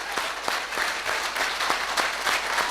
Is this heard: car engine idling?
no